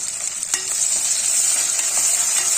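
Green chillies sautéing in oil in a pan for a rice dish, a loud, steady hiss of frying with a faint scrape or two of stirring near the start, close and continuous without talk.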